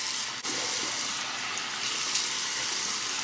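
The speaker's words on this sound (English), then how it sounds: "Hot water." Hot water runs hard from a tap into a sink, a loud continuous close rush with a brief dip near the start, then steady until it cuts off.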